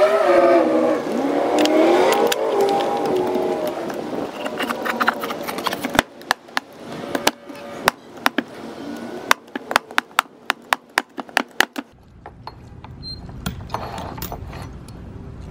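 A $20 manual tile cutter works on mosaic tile set on a mouse pad: a scraping scoring pass, then a run of sharp, close snaps and clicks as the tile pieces break, alone with no talk.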